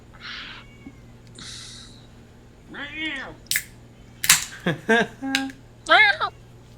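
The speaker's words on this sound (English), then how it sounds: "My cat just tried to fucking come in the bedroom" A pet cat at a bedroom door gives a few separate meows and yowls, close and clear against a quiet room, mixed with sharp snapping or tapping sounds and a brief voice.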